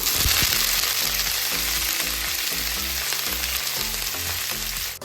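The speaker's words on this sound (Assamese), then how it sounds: "চব্জিখিনি 2 মিনিট ভাজি লওঁ।" Vegetables frying in a pan alongside fish and onion, a loud continuous sizzle with crackling and occasional stirring scrapes, fading slightly at the end, no talk.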